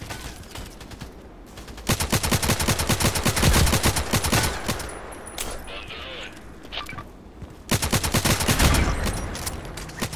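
Automatic gunfire from the Contract Wars online shooter rattles out in two long, dense bursts with scattered single shots and brief lulls between, loud and close.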